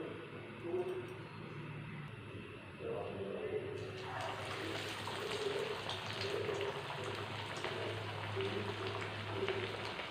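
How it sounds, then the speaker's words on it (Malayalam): Parippu vada, flattened lentil fritters, frying in hot oil at home over a medium flame: a steady, broad hiss and crackle of bubbling oil that rises and thickens partway through and then holds, with faint voice underneath. "ഇനി നമുക്കിത് എണ്ണയിലേക്ക് ഇട്ട് കൊടുക്കാം."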